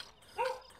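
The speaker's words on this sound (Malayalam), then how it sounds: "അയ്യോ, അടുത്ത വീട്ടിലെ പട്ടികൾക്ക് ഉറക്കമില്ലേ?" A neighbour's dog at night gives a single faint, short bark or yelp at a distance, a brief isolated sound against quiet surroundings.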